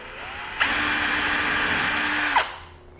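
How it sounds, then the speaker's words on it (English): A power drill whines up to speed, runs steadily for about two seconds boring a shallow pilot hole in wood, then winds down; close and fairly loud, with no talking. "So I'm just going to drill a very shallow hole here."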